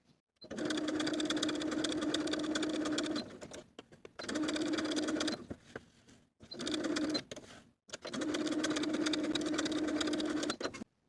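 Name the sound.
sewing machine stitching skirt seam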